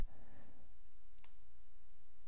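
A single faint computer mouse click sounds once, short and dry, against a quiet background hum.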